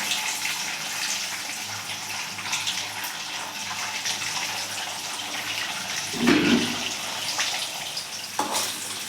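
Eggs frying in hot oil for egg fried rice, a steady hissing sizzle with a louder crackling burst partway through, close and fairly quiet with no talk.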